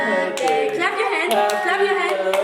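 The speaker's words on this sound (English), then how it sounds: "Clap your hand." Children clap their hands at a birthday celebration while voices sing the birthday song loudly over them. The claps are scattered and uneven.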